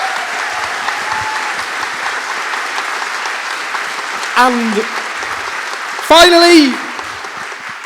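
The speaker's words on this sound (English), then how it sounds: "So please give momentum activists a huge round of applause" Loud audience applause for Momentum activists at a political event fills the whole stretch as dense, sustained clapping, with brief voices rising over it near the middle and end.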